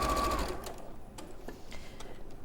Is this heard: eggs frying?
no